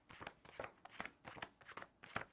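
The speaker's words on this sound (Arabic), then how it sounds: "تمسك الكوتشينة وتديها له وتقول له فرق الكوتشينة على 3 مجاميع" Playing cards from a deck being split by hand into three piles, a series of short crisp riffling and slapping bursts roughly every half second, close and fairly quiet, with no voices.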